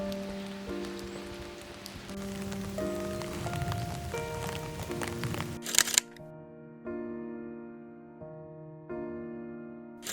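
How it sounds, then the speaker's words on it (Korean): Steady rain falling from the eaves of a Buddhist temple gate patters for about six seconds beneath soft sustained musical tones, then the rain cuts off and only the tones continue. "해탈문 처마 밑에서 잠시 비를 피하며 떨어지는 빗줄기를 바라봅니다"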